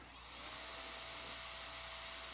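Professional rotary carving tool spinning at 40,000 RPM, a thin, steady high-pitched whine that rises briefly as it spins up and then holds at a quiet, even level.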